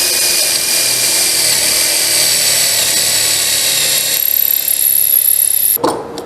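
Power drill driving a bolt into an oak shop stool: a loud, steady high-pitched whine running continuously for several seconds, then cutting off abruptly with a brief clunk near the end.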